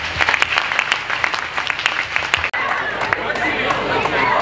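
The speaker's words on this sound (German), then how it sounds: "Applaus" Crowd applause after thanks to the judges at a youth fire brigade camp exercise, lively continuous clapping with murmured voices mixed in, briefly cut by a sharp break midway before carrying on.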